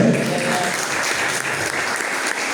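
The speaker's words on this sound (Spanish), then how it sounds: "¿Cuántos le dan un aplauso al Señor?" A church congregation applauds the Lord during a sermon, loud dense clapping filling the room steadily from start to finish, with faint voices mixed underneath.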